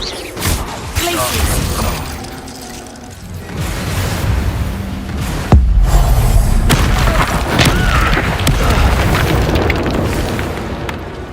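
Confringo fire-blast spell explosion in the video game Hogwarts Legacy, a sudden heavy boom partway through, followed by rumbling debris and magical effects amid game noise and background voices.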